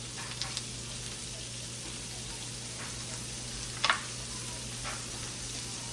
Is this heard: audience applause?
no